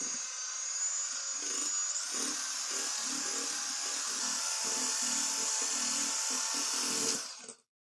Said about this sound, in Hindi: अब दोबारा से हम ग्राइंड करेंगे।